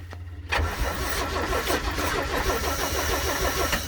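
An old farm machine's engine cranks and catches after a quiet moment, then runs steadily at a rough, loud idle close by, still needing choke.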